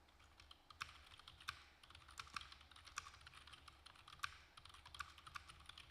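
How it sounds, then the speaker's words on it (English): Typing on a computer keyboard during a live trading stream, with quiet, fairly close clicks in irregular bursts and a soft low hum underneath, no voices. "I'm typing it in the chat for you guys."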